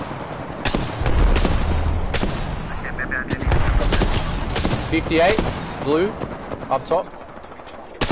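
Rapid automatic gunfire and repeated shots in a PS4 online shooter, loud bursts layered over one another with a player talking briefly over the action.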